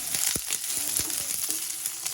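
Onions go into hot oil in a pan, giving a close, continuous sizzling hiss with a few soft knocks and pops, and no one speaks.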